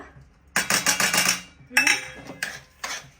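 A spoon stirring laddu mixture with added cardamom powder in a metal pan, giving bursts of scraping, clinking strokes in quick rhythm, close and fairly loud, with brief pauses between.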